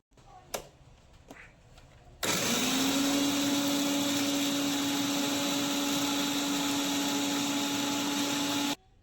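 A kitchen mixer grinder whirs loudly and steadily as it grinds grated dry coconut into powder, its motor starting abruptly after a few soft clicks and running alone with a constant hum.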